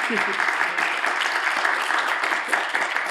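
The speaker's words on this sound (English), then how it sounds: "we can have a round of applause for everyone" Audience applause fills a hall at a public-health science and policy panel, a steady, dense clatter of clapping that holds for about three seconds, with voices mixed in beneath it.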